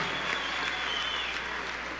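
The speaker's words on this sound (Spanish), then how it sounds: "Un aplauso a esta mujer" A crowd at a Venezuelan government ceremony applauds Carmen Teresa Meléndez Rivas, the first woman defence minister, a continuous wash of clapping heard from some distance, steady and unbroken.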